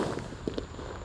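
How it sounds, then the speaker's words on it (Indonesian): A bomber firecracker bursts underground, a couple of muffled, thudding pops over a loud, rough background. "mercon bomber di dalam tanah"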